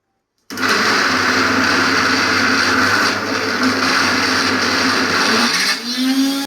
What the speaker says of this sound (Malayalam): ഇനി നമുക്കൊന്ന് അടിച്ചെടുക്കാം.